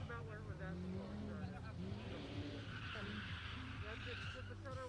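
At a drift and stunt show, a big Ford Mustang drift car revs hard and sputters, then its tires screech and skid as it spins out. The engine noise is loud and continuous, with voices underneath.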